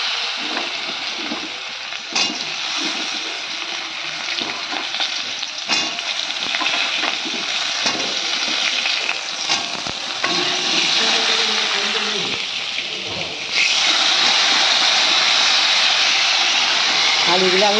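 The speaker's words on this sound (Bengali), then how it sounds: "তাহলে ভেজে নিই আলুগুলো।" Potatoes frying in hot oil with black cumin seeds in a wok, a loud, steady sizzling hiss close by with a few sharp crackles, and speech heard over it.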